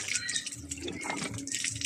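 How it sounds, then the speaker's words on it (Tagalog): Strong, steady rush of water from a tap fitted with a newly replaced gasket, a continuous hissing gush running without a break, close and fairly loud. "Ang lakas ng tubig."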